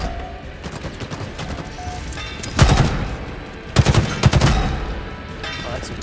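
Rapid automatic gunfire in Halo Infinite multiplayer capture-the-flag, steady bursts throughout with two louder, denser volleys near the middle, close and dominant with no talk.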